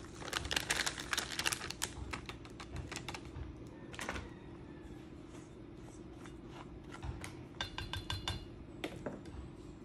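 Pancake batter made with eggs, water and oil being stirred in a bowl, a fast, clattering tapping of a utensil against the bowl that comes in bursts and stays close and fairly quiet.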